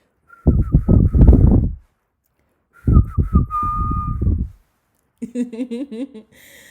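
A voice whistles and sings up and down, imitating a pinwheel spinning fast in the wind, in three short close bursts separated by brief pauses, the last one warbling.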